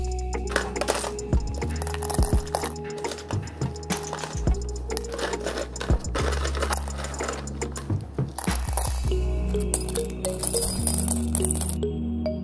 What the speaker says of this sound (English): I poured half of the glass into each of the tumbler barrels